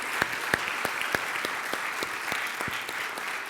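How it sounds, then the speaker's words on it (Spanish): A church congregation applauds, giving steady, moderately distant clapping with scattered louder individual claps standing out over the dense wash of hands throughout. "Denle ese aplauso al Señor"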